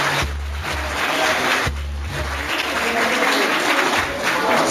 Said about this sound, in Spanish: Les pido ya un fuerte aplauso para esta gente que es la sorpresa de la tarde.